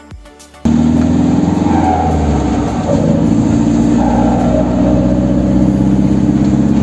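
A car engine with a broken exhaust pipe roars loudly and steadily after a brief quieter opening, a rough, rattling drone with no talk, on a road near Ioannina, Greece.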